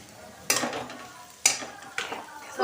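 A few sharp bursts of hissing sizzle as green chillies hit hot oil with cumin and dried chillies, then fades between them; a utensil clatters lightly.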